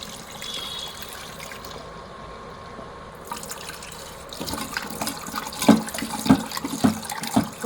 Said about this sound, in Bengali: এই যে এখানে কিন্তু আমি ডালটাকে আগে ভালো করে ধুয়ে নিচ্ছি।